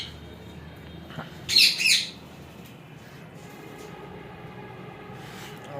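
Rosella parrots in a shed give a brief, loud squawking burst, then a faint call follows over a steady low background hum.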